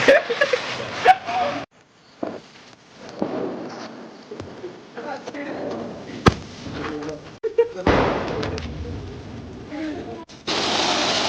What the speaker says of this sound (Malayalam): അങ്ങനെ പടക്കമൊക്കെ പൊട്ടിച്ചു കഴിഞ്ഞിട്ടുണ്ട്